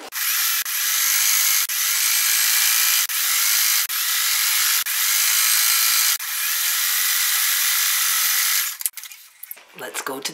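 A sewing machine runs steadily, stitching light pink fabric for a rag quilt, a continuous loud whir broken by a few brief pauses before it stops near the end.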